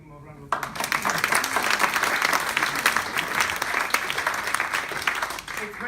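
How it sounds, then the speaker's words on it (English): Enthusiastic audience applause at a talk on child refugees, breaking out suddenly after a moment of quiet and continuing thick and lively for several seconds, with scattered cheers. "Can we give him a round of applause?"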